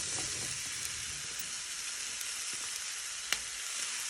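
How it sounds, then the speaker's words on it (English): Continuous bright sizzling of vegetables frying for fajitas in a hot pan used for the chicken, steady throughout, with a couple of faint clicks and a small clatter near the end. "you're going to fry all your vegetables using your same frying pan"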